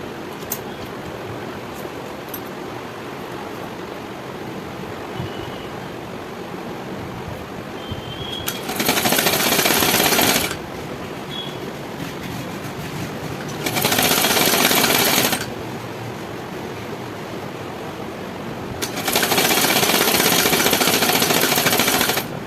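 A sewing machine stitches a sleeve onto the main fabric in three loud, steady runs of about two to three seconds each, separated by quieter pauses of handling.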